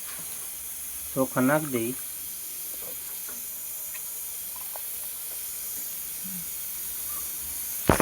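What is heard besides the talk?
water boiling in a pot for cooking rice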